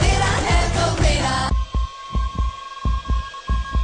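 Heartbeat sound effect in a TV advert: deep thumping beats in a steady paired rhythm over a sustained hum, following a burst of loud music that cuts off abruptly.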